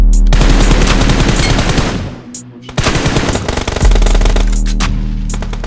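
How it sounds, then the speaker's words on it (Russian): M4 rifle fire in a competitive video game match, loud rapid automatic bursts broken by a brief pause, then more sustained firing. "Он по нам эмка издалека стреляет"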